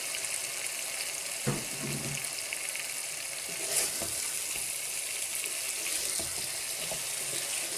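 Chopped tomatoes go into masala frying in a pan for Chennai-style mutton biryani. A dense, steady sizzle sounds close throughout, with a few soft clunks of stirring.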